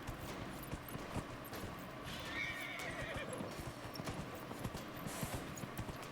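A horse whinnies in the middle of steady, busy ambience in the video game Dragon Age: Inquisition, with soft hoof clops and rustling underneath throughout.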